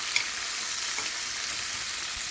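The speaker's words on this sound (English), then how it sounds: "Stir it up a little bit." Onion, garlic, tomato and ginger frying over very high heat while being stirred, a steady close sizzle with no talking.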